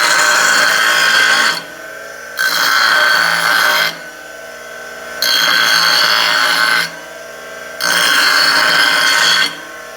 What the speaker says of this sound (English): Let me grind a little more and get it to 517.